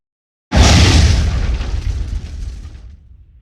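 A grenade explosion in the World War II shooter game Hell Let Loose: one loud, deep boom that bursts suddenly after a moment of silence, then rumbles and slowly fades over about three seconds, with no voices.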